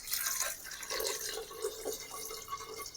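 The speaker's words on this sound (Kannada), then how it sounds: "ಅದಕ್ಕೆ ನೀರು," Water poured into a pot of cooked rice for making rice rotti, a steady splashing trickle heard close by in a home kitchen.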